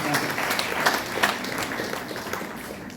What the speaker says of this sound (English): One round of big applause to all the teachers of Meenambakkam.